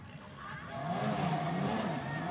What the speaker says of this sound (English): The revving of engines, you can hear the cars there going back out, but Stenshorn is now going to watch on.